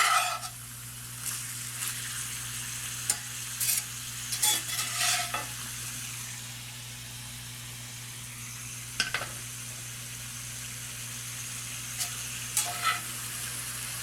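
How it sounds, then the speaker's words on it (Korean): Pork, first boiled and then frying in its own rendering fat in a cast iron pan, sizzles steadily and quietly, broken by several sharp stirring and scraping clicks; no voices. "한번 삶았다가 돼지고기를 튀기는 형태가 될 거예요."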